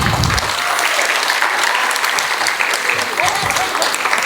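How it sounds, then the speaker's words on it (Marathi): Loud, sustained applause fills a preschool event hall, a dense continuous clatter of many hands from start to finish with faint voices underneath. "जोरदार टाळ्या."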